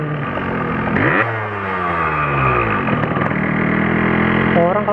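A two-stroke motorcycle engine hums and revs steadily while riding at night in the rain, shifting pitch as it speeds up, loud and close with wind noise.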